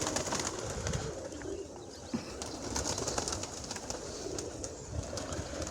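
Pigeons outdoors, soft cooing and fluttering calls repeating over a steady low background rumble, moderately near and fairly quiet throughout.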